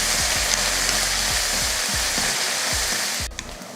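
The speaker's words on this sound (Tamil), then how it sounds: "வெங்காயத்தை நல்லா வதக்கிடுவோம்." Two large onions with a handful of coriander leaves and curry leaves sauté in a pan for chicken tikka biryani, giving a loud, steady sizzle with repeated stirring scrapes that fades slightly at the end.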